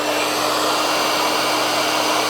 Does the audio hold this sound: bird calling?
no